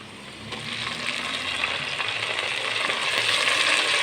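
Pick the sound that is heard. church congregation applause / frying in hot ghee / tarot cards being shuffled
frying in hot ghee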